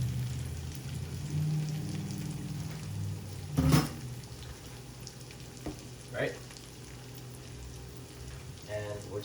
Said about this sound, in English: now in the omelet pan, let's get the eggs. Just throw that in there.